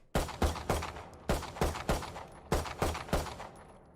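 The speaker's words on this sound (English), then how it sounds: "It has an alternative fire, which is a 3-round burst." Gunfire from the Valorant video game, a weapon using left-click single shots and a right-click three-round burst: sharp repeated shots in quick clusters of two to three, loud and close, with no talk.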